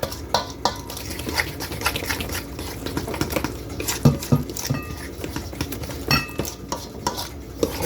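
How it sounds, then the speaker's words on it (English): A utensil stirs homemade pancake batter in a bowl, with irregular scraping, tapping and wet clinks against the dish at close range, no talking. "Just make sure you mix this nice and good."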